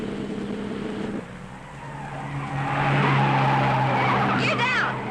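A sports car races on a track lined with hay bales, its engine droning steadily before tires squeal in a loud skid near the end, with voices in the background.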